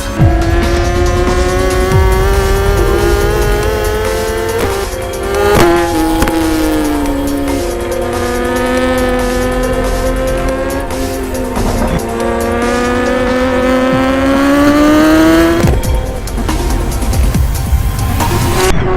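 A BMW S 1000 RR motorcycle with an Akrapovic exhaust system revs hard and loud, its engine pitch sweeping up and down in repeated sustained climbs, with no talk.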